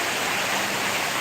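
A downpour hammers a roadside in a constant, heavy hiss, loud and near, with no talk over it.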